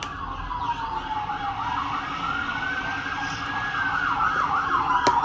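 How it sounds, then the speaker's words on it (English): A wailing emergency siren outdoors sweeps up and down continuously at moderate distance, with low traffic rumble beneath and no voices. "Ignore the siren outside."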